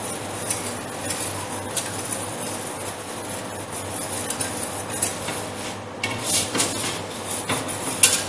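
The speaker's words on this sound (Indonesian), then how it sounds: "Aduk menggunakan whisk sambil ditim sampai kejunya larut dengan susunya" A metal whisk scrapes and clinks against a pot as cheese and milk are stirred together over a double boiler, with quick rhythmic taps and rattles that grow louder and busier toward the end.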